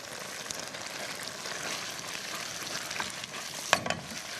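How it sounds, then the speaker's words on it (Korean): Noodles stir-fried with black bean sauce for tray jjajang, a dense continuous sizzle and crackle from the pan with scraping and a sharp clatter near the end, no voices. "달달 볶아주는 거예요."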